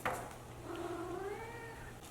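A house cat meows once, a drawn-out faint call rising and falling in a quiet indoor room during a plant repotting, heard alone against a soft background hum.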